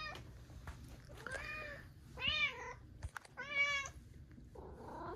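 A cat meows repeatedly, several distinct drawn-out calls of varying length with short pauses between them, close and clear over a quiet background hum.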